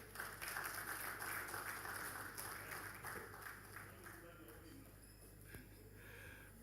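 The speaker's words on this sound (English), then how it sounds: "Please, let's give him a round of applause." Conference audience applauding at an education and youth empowerment launch in Nigeria, a steady wash of clapping that gradually thins and fades, with voices heard underneath toward the end.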